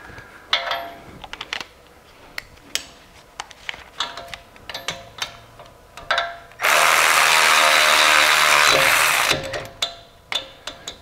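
A Milwaukee power tool drives a 15 mm bolt on the rear brake of a 2010-2017 BMW F10 535i, with clicks and short bursts followed by one long loud whirring run of about three seconds.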